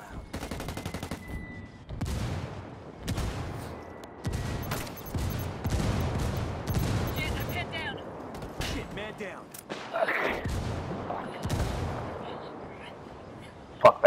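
Mortar rounds pound a bunker in the shooter Ghost War: repeated heavy booming blasts and rattling bursts of fire roll on for many seconds, loud and close, with voices faintly mixed in.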